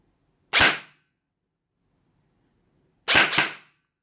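An airsoft gun fires BBs through an E9800-X chronograph: two sharp, snappy shots about two and a half seconds apart, the second a quick double, set against a quiet background.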